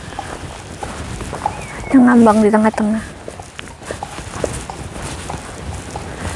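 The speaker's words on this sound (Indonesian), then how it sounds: "kedengeran nggak ada suara langkah kuda?" Hooves of a ridden horse clopping along a road in a steady walking rhythm under outdoor ambience, while a person nearby speaks briefly over them.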